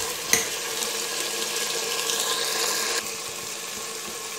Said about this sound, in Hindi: थोड़ा सा मटर भूनेंगे और मटर आलू दोनों चीज इकट्ठे भूनेंगे